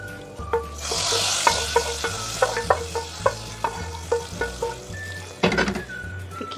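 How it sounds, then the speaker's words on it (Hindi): A cumin and garlic tadka hisses and sizzles steadily at close range as it is poured into cooked daal, with a spoon repeatedly clinking against the pot in a regular stirring rhythm and no talking. "और अपना फ्लेम मैं बंद कर दूंगी और हम दाल में सारा ये तड़का लगा देंगे।"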